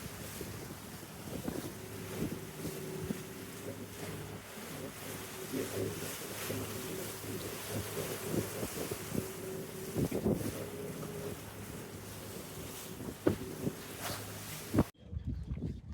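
Wind buffets the microphone over a steady rush of water and waves as a boat moves along, with a low engine-like hum beneath; no talking.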